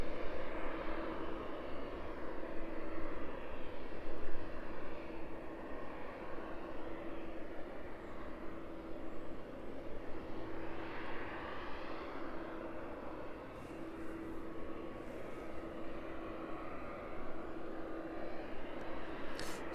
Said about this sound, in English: quite some time since we've seen an Embraer into East Midlands